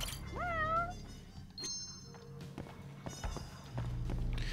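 A cat in the game Judgment gives a clear rising-and-falling meow, followed by scattered footsteps and small clicks of the game world, with a low steady hum underneath.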